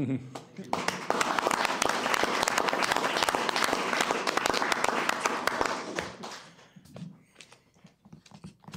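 Applause fills a city council meeting in Oldsmar, a dense, loud burst of clapping lasting around six seconds before thinning into scattered claps and voices.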